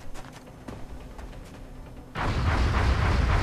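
Weapon fire from the strategy game X-COM: a quiet stretch with faint ticks, then a sudden loud, dense roar of shooting that keeps going to the end.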